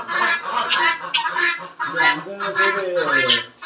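Guinea fowl and chickens call from a garden pen, loud nasal honking cries repeating in quick, uneven bursts close to the listener with no talk.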